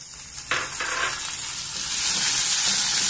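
Tomato pieces hit hot oil with fried ginger and garlic, setting off a sudden sizzle that swells into a steady, bright crackling fry, stirred now and then, close up and without speech.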